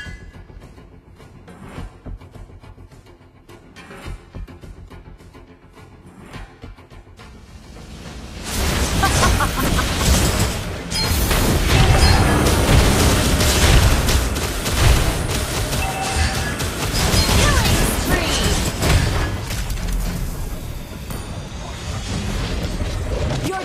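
Explosions and battle effects from a Mobile Legends match as a turret is destroyed, starting with quieter game sounds, then a sudden loud, dense barrage of booms and impacts that continues to the end.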